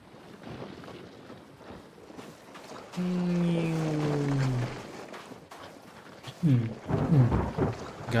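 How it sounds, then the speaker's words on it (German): Thunder rumbles and rain falls during a storm in the survival game The Forest, with a steady roar of weather and a few louder swells. "Wieder Gewitter."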